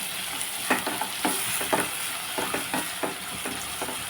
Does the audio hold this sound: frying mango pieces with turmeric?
yes